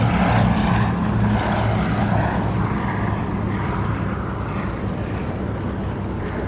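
A Bristol Blenheim bomber, restored to fly as a Mark I after a landing accident, drones overhead at Duxford, its propeller engines a loud, steady roar that fades slightly over the few seconds, with some wind noise and no talking.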